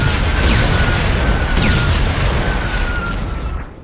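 A large explosion in a Killzone game cutscene: a loud, sustained broadband roar with deep rumble that stays dense for several seconds before tailing off, alone without talk.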